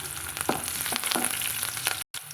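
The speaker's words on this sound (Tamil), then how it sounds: "சின்ன வெங்காயம் சேர்த்திட்டு கருவேப்பிலையில் சேர்த்துக்கலாங்க இதை நல்லா வதக்கி விட்டுக்கலாங்க" Shallots and curry leaves sautéing in hot oil for a traditional oil-based brinjal kuzhambu, a steady close sizzle with light stirring scrapes, briefly cut to silence near the end.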